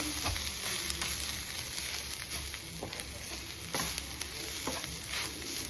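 Coriander powder and Kashmiri chilli powder fry in a pan for chickpea curry, a steady soft sizzle broken by repeated sharp scrapes and clicks of stirring, close and without speech.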